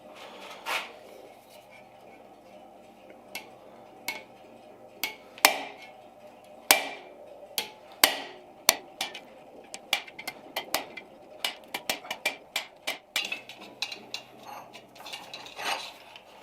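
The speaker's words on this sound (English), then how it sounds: "this ball-peen hammer sure gets a lot of use" A ball-peen hammer strikes a steel rod in a blacksmith's workshop, sharp metallic clanks in irregular bursts, sparse at first and then quicker and denser, close and ringing against a quiet background.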